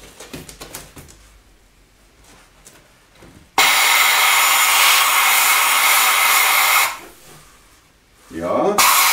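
Sandblasting a brake caliper: a loud, steady hiss of blasting air and sand starts abruptly, runs for about three seconds, cuts out, then resumes near the end. Softer clatter and handling noises come before it.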